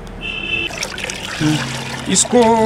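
Water trickles and sloshes as NPK fertilizer and Epsom salt are stirred into ten litres of water for feeding roses, a close, uneven liquid swirl with someone speaking over it.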